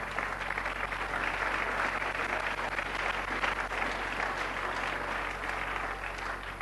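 A church congregation in Goma applauds loudly, a dense, steady wash of clapping from many hands that fills the room without letting up, with no speech over it.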